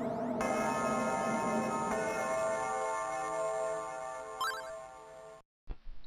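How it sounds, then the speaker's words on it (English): A large bell in the video game Ys rings out its final long, resonant toll, a sustained metallic tone that slowly decays before cutting to silence, with brief game sounds after. "Now please, enjoy the sweet sound of the bell's last"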